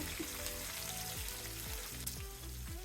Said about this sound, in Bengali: এই মাছ ভাজার তেলে বাকি রান্নাটা আমি করে নেব এখানে দেড় কাপের মতো পেঁয়াজ কুচি আছে দিয়ে দিব